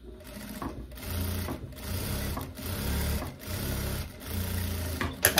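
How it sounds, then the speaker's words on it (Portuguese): Sewing machine topstitching along a fabric edge while making wide-leg trousers, running in several steady buzzing bursts separated by brief pauses, close and fairly loud. "eu vou virar esse recorte pra cima e vou fazer um pesponto bem aqui na beiradinha"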